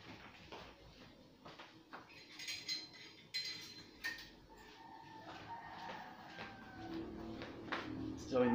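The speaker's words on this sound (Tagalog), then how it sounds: "So, kukuha lang po ako ng sandok." A metal ladle is pulled from a drawer of cutlery in a kitchen, giving scattered light clinks and scrapes of metal on metal, fairly quiet, under a person speaking.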